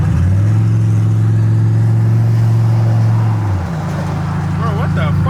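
A turbocharged truck pulls at about half throttle with no boost, its engine a loud steady drone that drops in pitch near the end as it eases off, with people talking over it.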